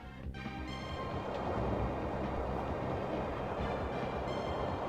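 Steady rumbling roar of a moving train in Skies of Arcadia, continuous broadband clatter at moderate level throughout, with no voices.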